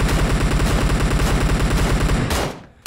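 QBU88 marksman rifle with a compensator firing in PUBG Mobile: a loud, close, rapid rhythmic string of evenly spaced shots that cuts off into a brief fading tail, then a final shot begins.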